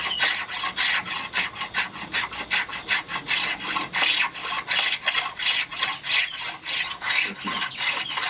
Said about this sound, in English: I'll get it with that fine spoke shave.